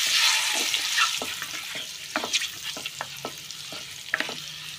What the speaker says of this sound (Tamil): இந்த ஆயிலில் முட்டையை நல்லா கிண்டி எடுத்துக்கோங்க